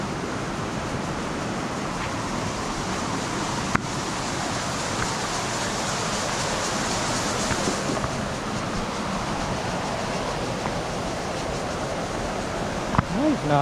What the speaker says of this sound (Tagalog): nakaka-relax yung mga huni ng kulisap at saka yung lagaslas ng tubig